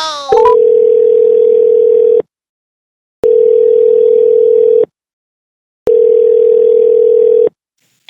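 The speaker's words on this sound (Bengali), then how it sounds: "অসুরকে একবার ফোন করে দেখি।" A telephone ringback tone plays during a call in a Bengali cartoon: three long, steady electronic tones, each about two seconds, separated by short silences, loud and with no voices over it.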